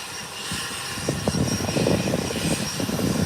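An American Airlines airliner holds on the runway at the threshold, its engines giving a steady mid-distance whine and rumble with faint flutter, no voices.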